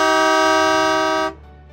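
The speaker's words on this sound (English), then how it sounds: "Blow the horn to check it sounds loud and clear." A truck tractor's horn blown once during a pre-trip inspection, a loud, steady single honk held for about a second and a quarter before cutting off sharply.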